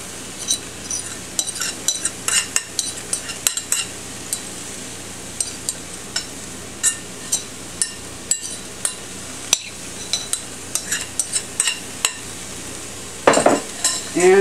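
Soy crumbles and taco seasoning stirred in a pan: repeated close scraping and clinking strokes of a utensil against the pan in an uneven rhythm, over a low sizzle, with no voices.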